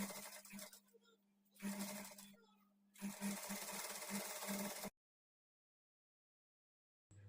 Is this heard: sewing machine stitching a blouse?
yes